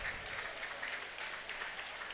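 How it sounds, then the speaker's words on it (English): Faint, distant crowd applause in a college men's basketball gym for the Braves senior point guard as he heads to the bench, a brief steady patter of clapping. "Round of applause for the Braves senior point guard."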